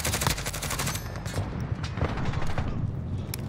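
A fast, steady stream of automatic gunfire plays out in a Call of Duty: Modern Warfare Ground War match, loud and close, with strong booming low end and sharp individual cracks throughout.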